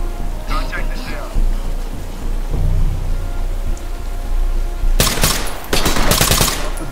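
Full-auto bursts from an SLR AK rifle in Ready or Not, with loud rapid rattling volleys near the end over a steady rain-like din, and speech underneath.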